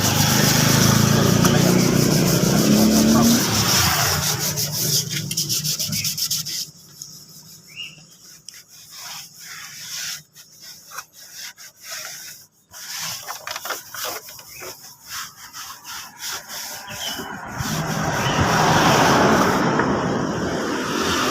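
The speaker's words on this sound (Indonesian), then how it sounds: "kita gosok saja seperti ini sampai halus" A car body part being rubbed smooth by hand before a new trim strip is fitted, giving a steady close scraping and rubbing that fades in the middle with scattered scuffs, then returns loudly near the end.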